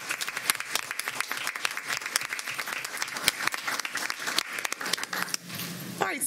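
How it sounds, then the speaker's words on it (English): Sustained applause at a school board of education meeting honoring a girls volleyball team, dense steady clapping from a seated crowd that tapers off near the end. "let's give Rachel and Hillsboro's girls volleyball team a round of applause."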